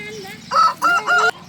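A rooster crows close by, a quick series of loud, strained calls.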